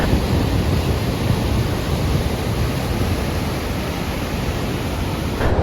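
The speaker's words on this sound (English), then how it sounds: "Look at this crazy river here." A crazy, fast-flowing river rushing through a canyon on the road between Huancaya and Cañete in Peru, heard as a loud, steady broadband roar of turbulent water, continuous and close throughout with no talk over it.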